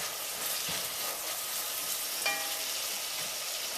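Ground black pepper stirred into a pumpkin and coconut curry soup base in a pot: a brief steady sizzle with soft scraping and one small clink, close and alone.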